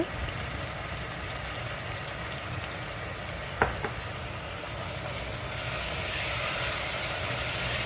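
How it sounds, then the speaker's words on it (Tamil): Tomatoes and onion sautéing in a pan for a king fish curry, a steady close sizzle with a few light stirring scrapes near the middle that grows a little louder and brighter toward the end; no voices. "தக்காளி நல்லா குழையிற வரைக்கும் வதக்கணும். அடிக்கடி கிளறி விட்டுக்கிட்டே இருக்கணும்"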